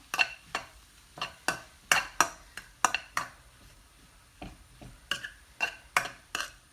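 Masala potatoes stirred in a pan, a spoon striking and scraping the metal in a steady series of sharp, close clacks, with a faint sizzle between strokes.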